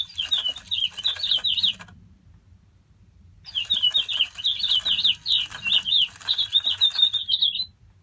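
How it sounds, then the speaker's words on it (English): A small sound-activated mechanical toy bird chirps in two bright bursts of rapid warbling tweets, separated by a pause of about a second and a half, with a faint low rumble beneath. "it's a sound activated, it's a small mechanical bird"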